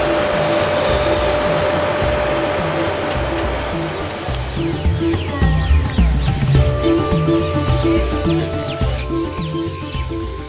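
A Nilgiri Mountain Railway steam train in southern India rumbles steadily along the track with rhythmic clanks and rattling wheels, loud and close, with squeals of metal near the end.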